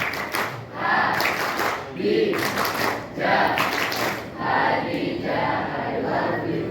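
A group claps together in a rhythmic patterned chant, bursts of clapping alternating with voices chanting along, loud and close in an indoor gathering.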